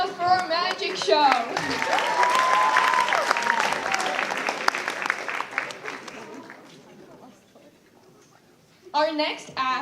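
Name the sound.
audience applause after magic show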